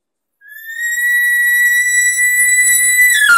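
A loud, pure, high whistling elk cow call is magnified through a tube and rises, then holds steady for nearly three seconds before a brief, rougher bull-like voice break at the end; a human caller imitates the animal.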